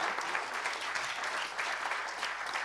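A seated audience claps steadily after a speech on national defence, a dense and even wash of applause that holds at a moderate level from start to finish, with no voices over it.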